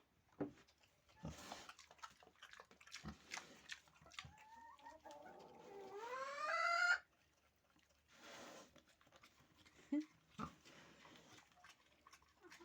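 A hen clucking in scattered bursts, rising into a loud drawn-out squawking cackle, then quieting to sparse clucks and soft rustling nearby.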